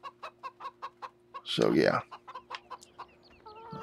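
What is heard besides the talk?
chickens clucking in video game Farming Simulator 17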